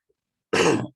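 A single short cough or throat-clear from someone coming down with a cold, close and isolated after a moment of silence.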